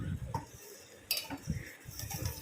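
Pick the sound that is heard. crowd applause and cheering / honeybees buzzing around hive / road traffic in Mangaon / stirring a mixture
stirring a mixture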